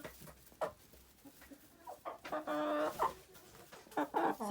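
Several chickens cluck in short, irregular bursts nearby, with a few louder, drawn-out calls standing out among softer murmuring clucks.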